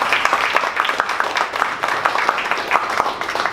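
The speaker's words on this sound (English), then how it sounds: "Round of applause." Steady, close applause from a morning audience at a 1 Million Cups entrepreneur gathering in Dallas, dense even clapping throughout with no talk.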